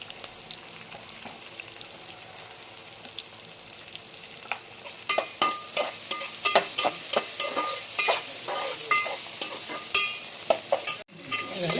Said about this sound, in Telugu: ఉల్లిపాయ మొత్తం ఒకసారి మొత్తం వేగే వరకు కలపండి